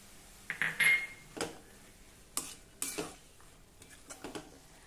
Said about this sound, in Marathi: आता मध्यम आचेवर त्याला छान तेल सुटेपर्यंत जरा 2 मिनिट आपण ही भाजी परतून घेऊ।